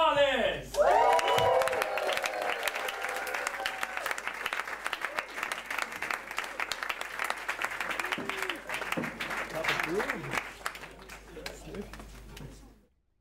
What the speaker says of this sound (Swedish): En varm applåd för Speedy Gonzales!